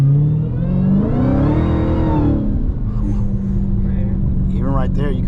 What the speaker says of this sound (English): I'll give it one last final roar for the views.